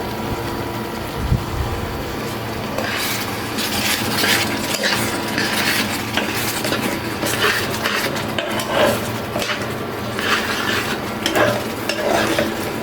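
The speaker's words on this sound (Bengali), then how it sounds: "তেঁতুল একটু ফুটিচ্ছে, যার কারণে আমার এই অবস্থা এরকম একবারে সব দিকে একবার ছড়াই ছিটে যাচ্ছে" Tamarind chutney bubbling and splattering in a pan, a dense close sizzle with spitting pops and the scrape of a stirring spoon against the metal.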